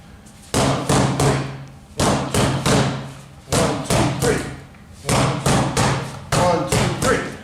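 Rattan sticks clack together in Sinawali stickwork, striking in a steady three-hit pattern repeated four times, sharp and close with short pauses between each group.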